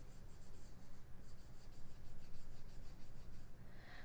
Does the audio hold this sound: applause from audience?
no